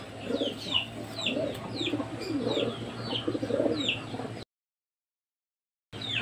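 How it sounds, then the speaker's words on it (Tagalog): Pigeons coo in repeated low, throaty pulses with high chirps over them. They sound close and fairly loud under steady background noise, and the sound cuts out briefly near the end. "Ito mga kalapatid oh."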